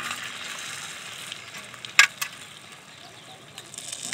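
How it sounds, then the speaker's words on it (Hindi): Gujiya filled with biscuit and peanut sizzle in hot oil, a soft, even hiss with one sharp clink around the middle and a few lighter taps afterward. "तो इसी तरह हम सारा गुजिया फ्राई करके रख लेंगे।"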